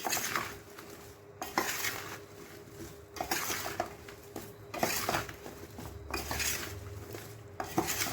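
Mango pickle with oil and spices is stirred slowly in a pot, spoon scraping and clinking against the metal in uneven bursts with short pauses, close and moderately quiet.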